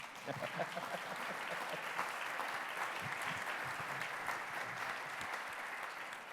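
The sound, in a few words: audience applause for panelists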